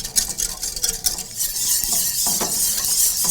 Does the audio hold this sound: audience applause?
no